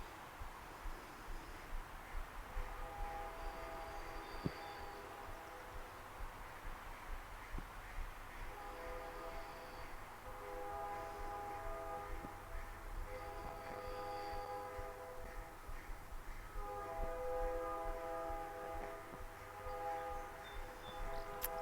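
A train rolls past steadily for the whole stretch, a continuous low rumble with tonal squeals and a faint horn-like whine rising and fading.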